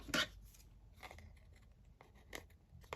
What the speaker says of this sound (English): Oh, my blunt scissors.